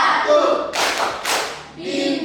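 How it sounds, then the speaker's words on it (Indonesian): Classroom group doing a Pancasila clapping chant claps in two loud, short bursts between spoken counts, close and crisp, with voices around them. "Sekali lagi, tepuk simbol Pancasila."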